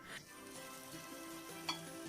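Onion sautéing with a pinch of salt in a pan, a faint steady sizzle with a single small tick of a utensil against the pan, heard close and alone.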